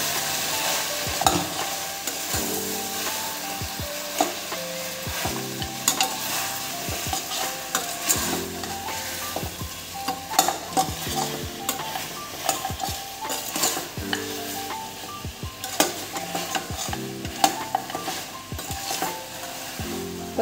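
Goat head curry with salt frying and being stirred in a pot, a steady sizzle under repeated scraping and clinking of a spoon against the metal, no voices.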